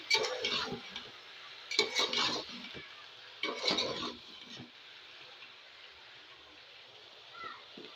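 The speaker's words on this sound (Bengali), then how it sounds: "আবার নাড়াচাড়া করছি আমি" A utensil stirs rohu fish and ridge gourd curry in a pan, making scraping, clinking strokes in three or four distinct bursts. The stirring is close by, and quieter stretches with light clatter fall between the bursts.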